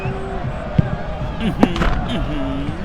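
A football is struck hard during a match, giving two sharp, punchy thumps about a second apart under continuous commentary and crowd noise.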